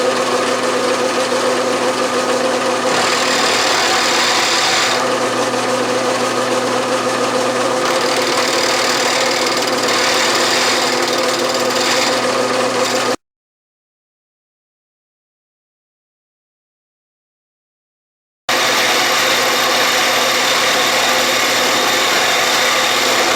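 A Logan metal lathe runs steadily while taking a 100-thousandths-deep cut, a loud continuous mechanical hum and drone with slight shifts in tone, briefly cut to silence before resuming.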